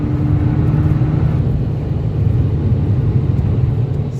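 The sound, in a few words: tuned Fiat Punto Abarth driving at 140 km/h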